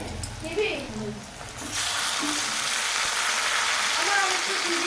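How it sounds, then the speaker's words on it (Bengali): Meat frying in hot oil in a wok, a loud dense sizzle that swells in after a quieter stretch of faint talk and kitchen clatter, then continues steadily. "কড়াইতে মাংস দিয়ে দিয়েছি"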